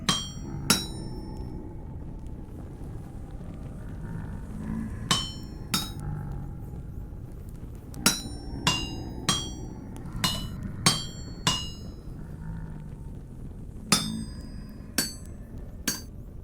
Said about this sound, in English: It's gonna use up so much durability in my hammer.